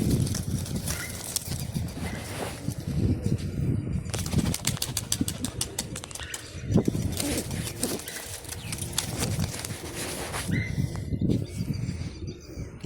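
Bursts of rapid wing flapping from several pigeons taking off, with clattering flutters and a few bird sounds in between.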